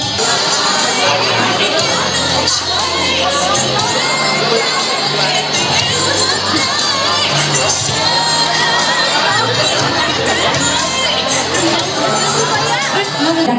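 Guests at a wedding celebration cheering and shouting amid loud crowd chatter, with clapping mixed into the dense, continuous roar.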